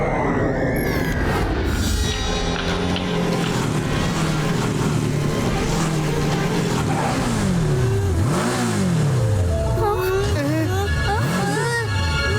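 An animated cartoon motorcycle revs loudly and continuously, its engine pitch swooping up and down in repeated rising and falling sweeps toward the end, over a dense, steady background.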